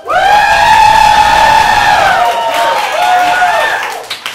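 Studio comedy-club audience at an improv showcase screaming and cheering loudly with applause mixed in, a sustained burst of crowd noise that stays strong throughout before trailing off at the end.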